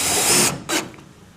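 A power drill drives dome cap screws to fasten an S5 solar bracket onto a metal sheet roof: one loud half-second whirring burst, a short pause, then a second brief burst, close up.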